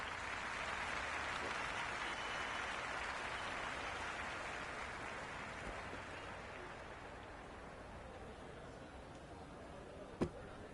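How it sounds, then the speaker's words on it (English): Steady stadium crowd buzz in the Cricket 26 video game, a broad constant roar from the stands during a South Africa match, holding level throughout with a sharp brief knock near the end and faint talk beneath. "There's a buzz, a real buzz coming from the stands"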